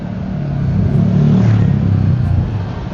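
An Omoway Omo-X electric scooter speeding up, a loud, close, low rumbling hum that swells midway and carries on steadily, with no talking.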